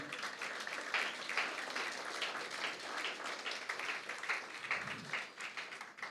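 A church congregation applauds during a Christian sermon, a steady, fairly faint round of clapping from many hands that continues without a break.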